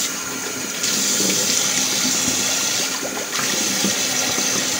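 Tap water runs steadily at close range into a sink while someone washes their face after shaving, a continuous broadband splash with brief shifts in the flow.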